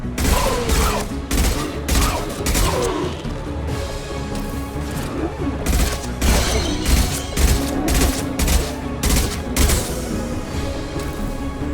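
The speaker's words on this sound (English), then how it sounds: "Firing a high-impact shot." Dense gunfire from Mass Effect 2 combat, repeated sharp shots and bursts with booming impacts over a steady bed of game sound and music, loud and continuous throughout.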